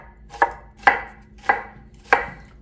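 Red onion being chopped with a knife on a board for a summer fig and tomato salad: four sharp, evenly spaced cuts about half a second apart, close and clear with no talk.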